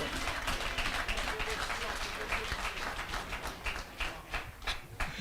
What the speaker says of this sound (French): applaudir Seigneur pour ça parce que ça mérite un applaudissement